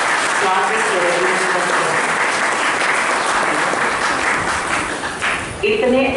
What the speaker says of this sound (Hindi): तो उन माता पिता का जोरदार करतल ध्वनि के साथ बहुत बहुत स्वागत है।